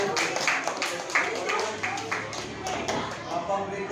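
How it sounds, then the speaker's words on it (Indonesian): Classroom group at an elementary school in Baubau clapping hands together, a steady run of moderate claps with scattered taps and background voices throughout. "tepuk tangan"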